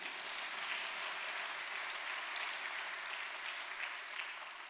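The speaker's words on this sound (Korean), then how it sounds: "박수 치려면 확실히." A Korean church congregation in Atlanta applauds during a service, a dense, steady wash of many hands clapping together that holds level for several seconds and eases off slightly at the end, with no talking over it.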